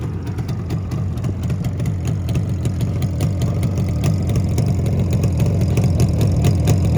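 A Yamaha RD350 two-stroke twin motorcycle engine idles close by, a loud, rapid, throbbing burble with a dense pulsing low rumble that holds steady throughout, without any voices.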